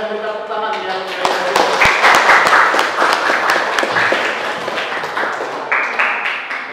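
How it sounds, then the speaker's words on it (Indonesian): A classroom of students claps their hands in a quick, uneven burst that rises and then thins out, while a teacher's voice talks over the clapping. "Ya kita beri tepuk tangan yang"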